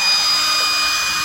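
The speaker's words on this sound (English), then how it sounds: "So, taper this block just a hair." Red oak block being tapered with a power tool while building a wooden sailboat, a loud, continuous abrasive grinding whir, close and steady with no voices.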